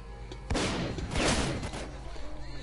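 Loud gunfire in the video game S.T.A.L.K.E.R. Call of Pripyat, a sudden burst of shots with a heavy blast and echoing tail, close and dominant, followed by fainter scattered pops.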